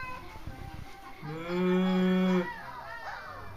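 A single long, low moo rings out clearly for about a second, with faint background noise around it; a child imitating a cow.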